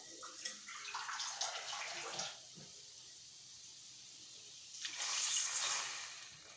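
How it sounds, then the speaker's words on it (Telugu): Water poured into a cooking pan while making beetroot pachadi, a brief splashing burst followed by a pause and a second shorter gush, close and moderately loud with no voices. "ఇది వేగాక కొద్దిగా వాటర్ వేసుకుందాం"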